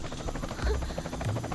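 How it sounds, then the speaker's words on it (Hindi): Helicopter in a forest setting during a film scene, a steady low rotor thrum with rapid chopping pulses, loud and continuous throughout, with no talking. "वो देखो, हेलीकॉप्टर।"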